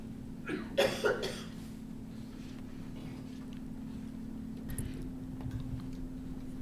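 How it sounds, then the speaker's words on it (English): Two or three quick coughs burst out near the start at a school board governance meeting, over a steady electrical hum in a quiet room, followed by faint shuffling and low background noise. "thought you were coughing and pausing"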